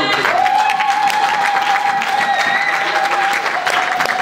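A church congregation applauding in acclaim of God during a worship service, with sustained, dense clapping throughout and a steady ringing tone held over it.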